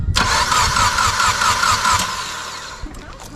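A car engine cranks and catches after its fuel pump fuse is put back in, following a loss of oil at 8,000 RPM, then settles into a loud, close, steady rumble that tapers toward idle.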